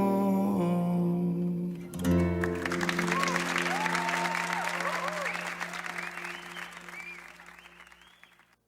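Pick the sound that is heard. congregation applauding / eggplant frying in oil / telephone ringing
congregation applauding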